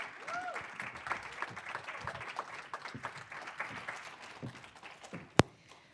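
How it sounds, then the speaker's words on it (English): Audience members at a panel event on girls, young women and gender-expansive youth applaud, fairly faint, uneven clapping with a few cheers, tapering off, ending with a sharp single knock. "Please, one more round of applause"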